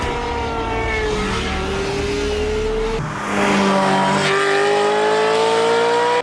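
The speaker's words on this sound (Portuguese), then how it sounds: "o som dessas Ferraris no filme nem é de uma Maranello" A Ferrari engine revs high and climbs through gears, a loud whining roar with rising pitch and a brief shift midway.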